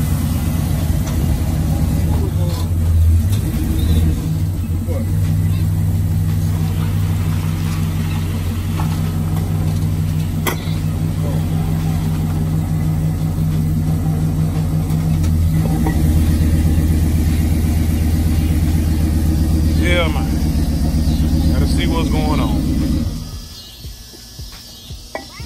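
A 1978 Chevy car engine idles loudly and steadily close by for over twenty seconds, a deep rumbling drone with slight swells, before cutting off abruptly near the end, with faint voices in the background.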